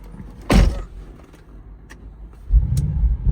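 An Audi car is heard up close: a loud thump, then a brief pause and a low engine rumble rising as it pulls away. No one speaks.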